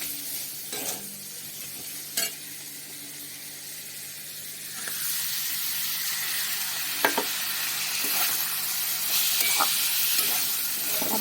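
Shrimp and washed masoor dal stir-fried in a pan give a steady sizzle that grows louder midway, with occasional scraping stirs and no talk.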